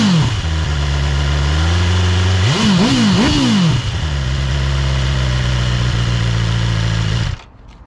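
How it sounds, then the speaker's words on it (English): A BMW S1000R motorcycle on its stock exhaust idles steadily at close range, blips the throttle through a few sharp revs, settles back to a steady idle, then cuts off abruptly near the end. "we're going to fire the engine up. We're going to have a listen to the exhaust"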